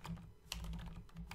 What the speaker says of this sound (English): I'm going to type up in the formula bar, I'm going to type equals average ifs.